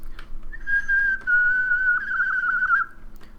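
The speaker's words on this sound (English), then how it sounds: "That's my whistles when I like do a little blah with your fingers." A person gives a single long, shrill whistle through their fingers, a high steady tone lasting a couple of seconds that wavers slightly near the end, close and clear against a quiet background.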